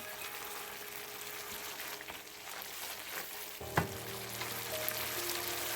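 Chicken wings in sauce are stirred in a pan for naga wings, a soft low sizzle with faint scraping and one sharp clink of the utensil midway.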